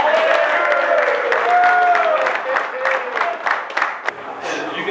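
Football players clap and cheer in a junior college locker room, a dense burst of hand claps mixed with shouting voices, loud and close throughout.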